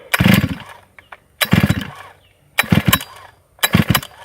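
A flooded chainsaw is pulled four times in a row. Each crank gives a loud, close, sputtering burst that dies away without the engine catching.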